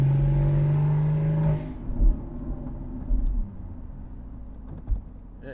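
A Porsche Boxster 981 with an FVD Stage 1 tune pulls hard, its engine note rising, then cutting sharply at a shift before settling into a lower rumble with brief bursts, heard from inside the cabin.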